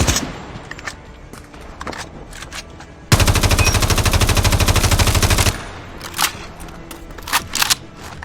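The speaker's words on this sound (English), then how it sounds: "Now time to see the AK-117." An AK-117 rifle in COD Mobile fires a continuous loud automatic burst of roughly two and a half seconds, with faint clicks and equipment sounds before and after and no speech.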